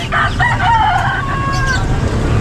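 Several chickens, of the Basilan breed, cluck and call close by at a pet market, their overlapping squawks continuous over a steady background hum.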